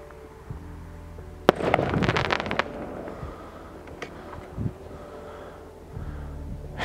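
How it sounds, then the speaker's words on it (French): New Year fireworks burst in a rapid crackling volley in the town of Laon, France, a few sharp bangs echoing afterward, with a low steady rumble of traffic or engines underneath. "mais des feux d'artifice"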